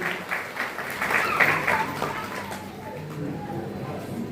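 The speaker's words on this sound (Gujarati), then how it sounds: "એવા આરતીબેનને તાળીઓના ગણગાટથી વધાવજો." An audience at a community award ceremony in Kutch applauding, a dense, steady roar of many hands clapping that swells early and then settles, with a voice faintly audible underneath.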